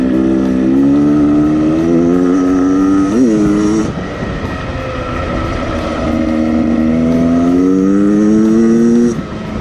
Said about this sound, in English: Up in the rev range, it definitely gets going up in that rev range.